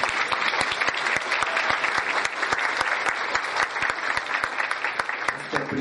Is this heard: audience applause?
yes